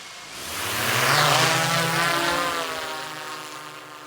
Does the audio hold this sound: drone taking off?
yes